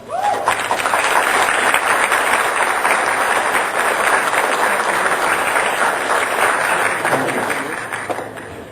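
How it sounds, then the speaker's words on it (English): Audience at a Calexico city council meeting gives a sustained round of applause, a dense, steady wash of many hands clapping that holds for about eight seconds before tapering off. "I think let's give them a round of applause."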